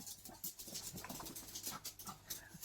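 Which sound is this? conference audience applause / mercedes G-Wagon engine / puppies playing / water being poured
puppies playing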